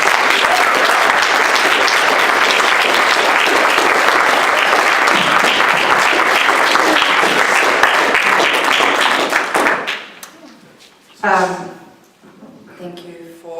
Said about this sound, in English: Thank you for your wonderful applause